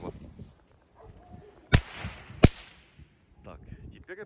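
Two sharp, loud firecracker bangs from a machine-gun belt firecracker, spaced under a second apart, each trailing off quickly, with people talking quietly before and after.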